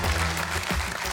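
Austrian television quiz show studio audience applauds a contestant introduction, a steady dense clapping that fills the short span at moderate loudness with no speech over it.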